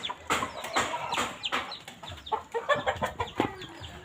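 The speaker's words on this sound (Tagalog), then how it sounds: "Ang cute na mga manok namin" Several chickens cluck and squawk in short, irregular bursts close by, with occasional sharper calls overlapping.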